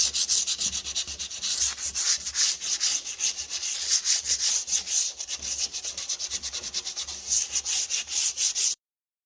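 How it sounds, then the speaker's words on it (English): Light hand sanding of painted furniture with 320 grit sandpaper, a close, steady rhythmic scratching with quick back-and-forth strokes that runs continuously and then stops abruptly. "I'm going to do at this point is do a light sanding with the 320 grit sandpaper"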